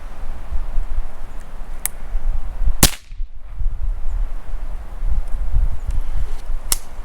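A small Browning rifle fires a single sharp, loud crack at a paper target outdoors, sitting over steady low rumble and rustle, with fainter clicks before and after the shot.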